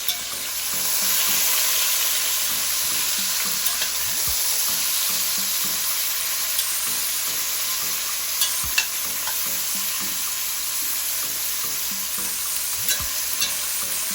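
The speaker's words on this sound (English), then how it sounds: "Let's go ahead and stir these around just like so." Seared meat and sautéed vegetables are stirred in a pan over a constant frying hiss, with intermittent scrapes and soft knocks of a utensil close by, and no one speaking.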